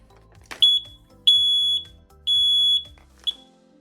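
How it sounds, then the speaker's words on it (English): Whisper Pumps water level alarm panel sounding its loud audible beacon: a piercing high electronic tone in long steady beeps, three sustained pulses plus a short chirp, close and loud with faint clicks before. "in the event of an alarm, the panel will indicate the alarm with a red flashing light on the panel and also a loud audible"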